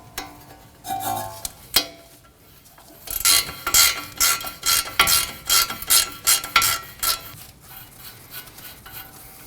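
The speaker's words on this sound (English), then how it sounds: "We'll remove the nut for the ball joint with a 19mm." A ratchet wrench with a 19mm socket backs off the ball joint nut on the front steering knuckle of a 2016-2022 Honda Pilot. It gives a few tentative clicks, then a close run of about ten rhythmic ratcheting strokes before stopping.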